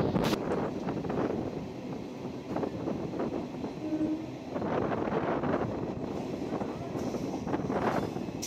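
A Sealdah–Krishnanagar local train runs along the track with a continuous rattling clatter and rhythmic wheel thumps, heard from inside amid wind buffeting, with a faint horn-like tone briefly.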